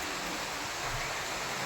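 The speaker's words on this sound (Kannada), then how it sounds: "ಫುಲ್ಲು ಗಾಳಿ ಬೀಸ್ತಾ ಇದೆ" Strong wind ahead of rain roars as a dense, steady rush of noise, close and loud throughout, with no voices.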